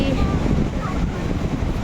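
Strong wind gusts across the front beach on Boracay Island in the Philippines during monsoon season, with waves nearby. The wind is a loud, steady, close roar filling the whole stretch.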